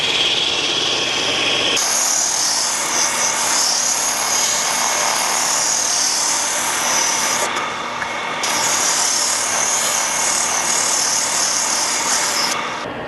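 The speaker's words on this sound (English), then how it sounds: "Now we'll sand out this inside on the drum sander." A drum sander sanding the inside curve of a wooden bench part, a steady loud whirring motor with an abrasive rasping grind that shifts slightly as the wood is worked against the drum, close and continuous without speech.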